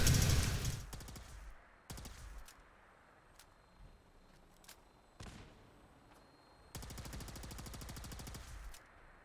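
Laser gunfire in a Fallout 4 battle: rapid bursts of synthetic shots come in clusters, a dense volley at the start, a few isolated blasts, then another sustained rattling burst, with a faint background hum between them.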